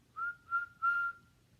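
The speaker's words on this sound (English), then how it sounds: "He whistled all the way there and whistled all the way home." Someone whistles three soft notes on a single pitch, each separated by a brief pause. The last note is held the longest, and there is no other sound.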